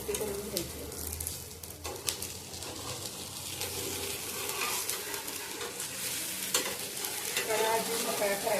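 Wheat flour dhirde pancake frying in oil in a pan, a steady soft crackling sizzle close by with faint clinks of a utensil, fairly quiet throughout.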